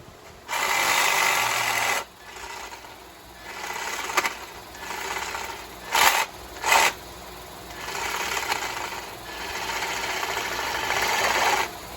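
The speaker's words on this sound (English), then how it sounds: "Currently cutting off the bolt since it's stripped." A harsh, buzzing grinding of a stripped bolt being cut off on a BMW N54 engine comes in long bursts, pausing and restarting several times, close by.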